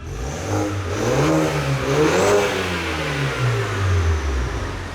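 A BMW F30 320i car with an N20 engine revs up and down repeatedly through a loud exhaust, the pitch rising and falling in several swells, close by.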